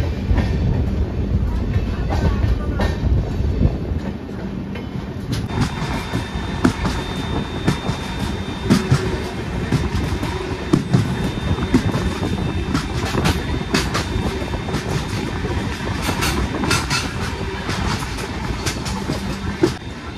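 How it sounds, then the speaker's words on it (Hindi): A passenger train rolls on rails in India on the Hyderabad to Mumbai route near Secunderabad, with a steady rumble and a clickety-clack that carry on through the whole stretch, loud and close as if from on board. "हमारे बाजू में जो ट्रेन चल रही है ना ये है सिकंदराबाद का किनाड़ा पोर्ट एक्सप्रेस"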